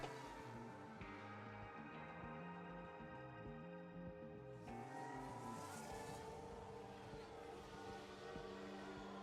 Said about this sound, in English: Sounds like a spin.